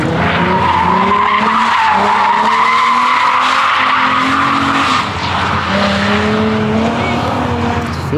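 A Nissan 350Z drift car with a welded differential skids at a drift event, its engine revving loudly and tires squealing in long sustained slides, close and continuous throughout.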